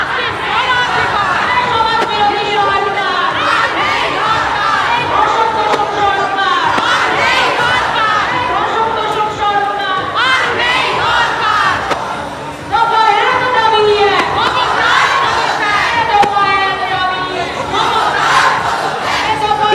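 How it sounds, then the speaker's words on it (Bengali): Large protest march crowd on a street chanting a rhythmic slogan in unison, loud repeated shouted phrases rising over a dense babble of voices, continuous and close throughout. "এখান থেকে কিন্তু স্লোগান উঠছে, আমি একবার শোনাবো, জাস্টিস ফর আরজিকর।"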